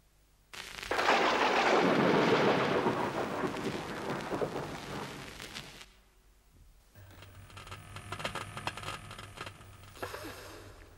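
Thunderstorm thunder in a film, with a loud rolling crash that booms for several seconds and then fades, followed by a quieter stretch of rain and rumble.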